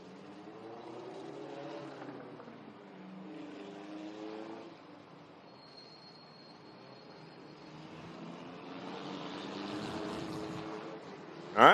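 Allison Legacy Series race cars idling and rolling slowly around Florence Motor Speedway while reordering, a low rumbling engine drone with a few rising and falling passes, moderately distant and steady, ending in a sharp close bump.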